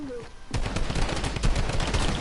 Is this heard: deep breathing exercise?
no